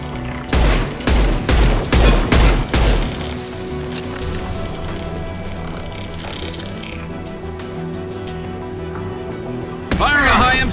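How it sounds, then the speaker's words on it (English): Weapon fire in Mass Effect 2 Legendary Edition on Xbox Series X, during the Horizon mission: about six loud, punchy shots in a steady rhythm up close, then a low droning ambience and a brief burst of noise near the end. "Firing a high-impact shot!"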